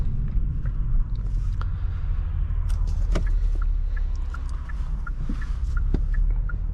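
A 2023 Kia Stinger GT2 AWD accelerating at full throttle with no brake boost, a steady low engine roar heard from inside the cabin with scattered small clicks and ticks over it.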